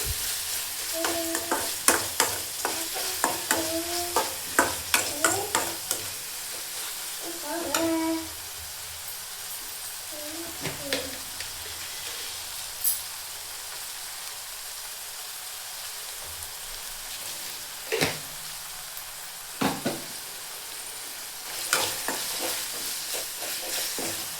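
Sugar being stirred into churumuri, a North Karnataka puffed-rice snack, with scattered scraping and clinking strokes over a soft continuous hiss, busier in the first few seconds, then sparse taps.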